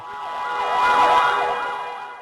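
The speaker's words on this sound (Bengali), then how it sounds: "অ্যাম্বুলেন্স দ্রুত গতিতে ছুটতে থাকে হাসপাতালের দিকে।" An ambulance siren wails loudly and continuously, its pitch sweeping up and down, swelling as it draws near and fading slightly as it passes.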